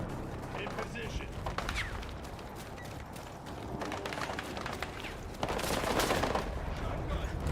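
Dense machine gun fire and a battle din of shots and blasts in the Battlefield video game, with bursts throughout and a louder surge near the end, under voices.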